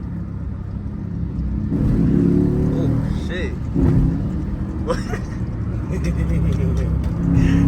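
A V6 Chrysler engine with a new exhaust rumbles loudly nearby, with brief throaty revs rising over the steady idle while someone speaks over it.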